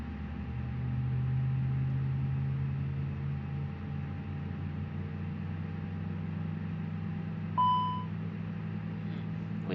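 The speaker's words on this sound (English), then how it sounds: "This beep that you just heard was about TCAS alert or TCAS warning" A single short electronic beep sounds near the end as a TCAS traffic alert inside a cockpit in Microsoft Flight Simulator 2020, over a steady low engine hum.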